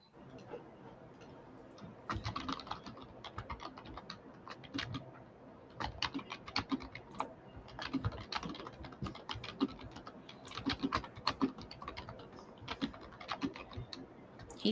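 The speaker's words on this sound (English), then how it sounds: "He said my keyboard was loud." Rapid typing on a loud computer keyboard, a steady patter of clicks that runs for several seconds, pauses briefly, then carries on under a quiet room.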